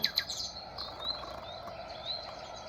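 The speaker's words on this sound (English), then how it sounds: "Oh, they're birds. You're right. Yes, they're birds." Small birds chirping: a couple of sharp high tweets at the start, then softer, thinner calls trailing on over a faint background, with no voices.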